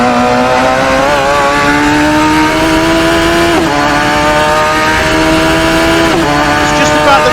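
A Radical SR3 XXR race car engine in Assetto Corsa screams at high revs, climbing steadily and dipping briefly at each quick upshift, loud and continuous under a driver's voice.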